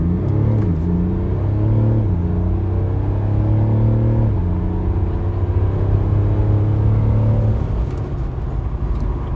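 Mercedes CLS400d with a six-cylinder diesel pulls hard from standstill toward 100, a loud, steady engine drone climbing in pitch through several gear changes, heard from inside the cabin with no talking.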